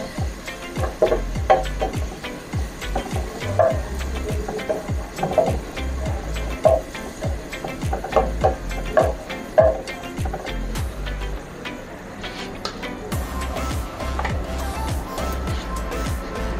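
Chicken frying in a pan with Sprite and oyster sauce, a steady sizzle with repeated scraping and stirring knocks from a utensil against the pan, close and moderately loud throughout, no voices.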